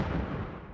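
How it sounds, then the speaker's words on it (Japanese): Explosions go off in the PS3 horror game Otogirisou, a dense, loud rumbling blast that fills the short moment and tails off slightly, with no voices over it. "あちこちで爆発が始まった。"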